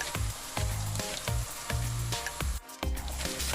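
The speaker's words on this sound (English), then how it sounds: "The plantain drops nicely into the oil." Plantain slices sizzle and crackle in hot frying oil up close, a steady loud hiss broken by a brief dip when more slices drop in.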